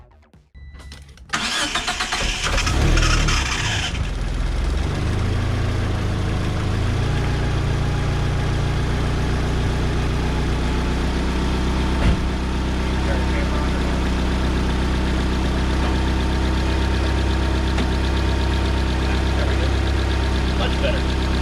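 An Eagle Talon TSi engine with new injectors cranks briefly, catches and settles into a steady, slightly uneven idle, loud and close, with faint talk in the background.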